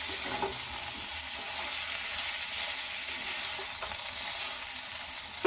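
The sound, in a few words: stirring coconut with ridge gourd in a frying pan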